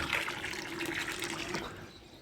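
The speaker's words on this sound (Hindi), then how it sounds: "ये आ गया पानी, हाय हाय।" Water rushing and splashing steadily close by, a continuous bright flow that eases slightly toward the end, with no talk over it.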